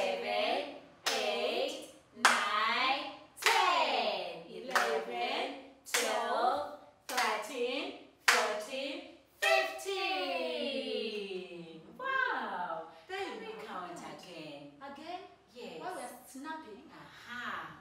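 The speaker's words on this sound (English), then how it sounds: "we're going to clap 15 times." A child's hands clapping in a regular, evenly spaced count during a baby-class maths lesson, each sharp clap close and distinct. A voice counts along throughout.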